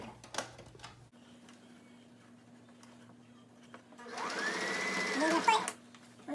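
Sewing machine stitching the elastic hem of an 18-inch doll outfit made from a t-shirt, a steady fast whirring burst running about two seconds after quiet room tone with a faint hum.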